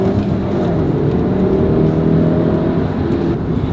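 A Volkswagen Golf R mk7 turbocharged engine pulls hard under acceleration, a loud, steady, even drone that holds strong and continuous throughout with no voices.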